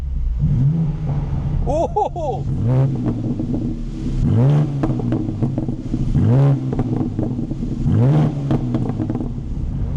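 A BMW M2 CS sports car engine revs in several sharp bursts through its exhaust, rising and falling in pitch with a deep throaty burble and occasional crackles, while someone talks over it.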